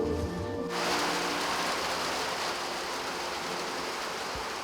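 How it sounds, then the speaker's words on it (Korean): A sudden rain shower in Ethiopia pours down as a dense steady hiss that swells in and holds at moderate loudness, broad and unbroken, with no voices. "그런데 갑자기 내리는 소나기."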